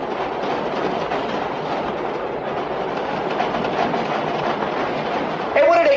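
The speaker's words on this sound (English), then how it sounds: "another train" Train rolling past on the rails, a continuous rumbling clatter of wheels heard from inside or nearby, with a faint squeal near the end.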